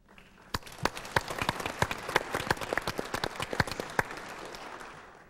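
Audience applause at a moderated response panel, a dense patter of sharp individual claps that starts crisply, holds steady for several seconds and thins slightly toward the end, with no talk over it.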